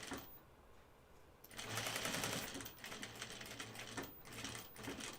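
Sewing machine stitching two rows around a Blanca flight suit, its motor starting after a quiet pause, then a steady close buzzing run of stitches that dips briefly and resumes.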